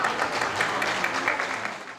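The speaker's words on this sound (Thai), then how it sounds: "ขอเสียงปรบมืออีกครั้งหนึ่งนะครับ" A live audience at a Thai fan event for actor Bright Norraphat gives steady, dense applause, many hands clapping together at an even level for about two seconds before it begins to taper off.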